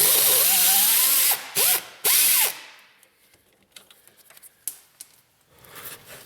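A ratchet wrench cranks loose the brake hose bolt on a Ford Taurus rear strut, several quick loud ratcheting bursts up close followed by quieter clicks and handling of the loosened bolt.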